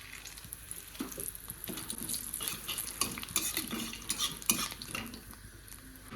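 Bay leaves and dried chillies crackle softly in a little hot oil while a utensil knocks and scrapes against the pan in irregular clinks, close and moderately quiet, with no speech.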